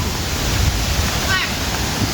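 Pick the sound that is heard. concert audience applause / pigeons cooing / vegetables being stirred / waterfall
waterfall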